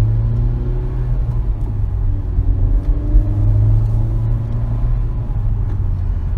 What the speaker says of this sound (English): Go through the gears here a little bit.